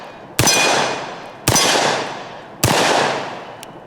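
Three loud, sharp shots from a double barrel 1911 .45 ACP pistol, roughly a second apart, each with a ringing, metallic tail that fades before the next.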